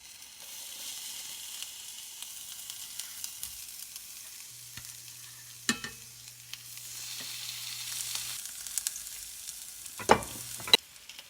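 Salted salmon laid skin side down in a pan over medium heat gives a soft, steady sizzle, with a few sharp knocks and clinks of the pan and utensils.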